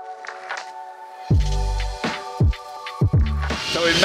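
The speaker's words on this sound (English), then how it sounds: "sorry for the loud noise, there's a lot of construction going on all around." Loud, irregular mechanical noise with several heavy low thuds and hissing bursts, like nearby machinery at a construction site around Commercial Bay in Auckland, no talking.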